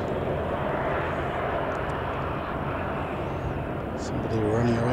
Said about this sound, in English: you can hear he's shutting off the engines of that over there.